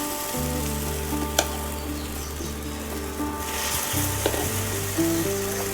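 Jowar flour dosa batter sizzles loudly on a hot griddle as it is poured and spread, a dense close crackling hiss with low scraping and stirring tones from the ladle, no voices.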